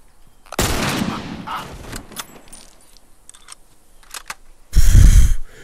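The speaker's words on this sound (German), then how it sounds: "vier Schuss jetzt für zwei Klicker verballert" Gunfire in The Last of Us, with a burst of shots near the start and a louder, booming blast near the end, separated by quieter clicks and rattles.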